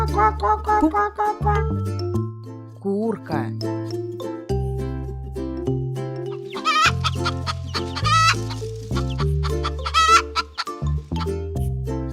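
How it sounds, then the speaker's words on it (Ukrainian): Chicken clucking and a rooster's brief crow over a bouncy musical backing, with a voice speaking near the start; several bursts of clucks spread across the clip. "Курка"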